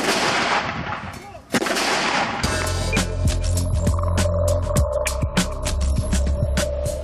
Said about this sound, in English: Multi-launch rocket systems, are they the future?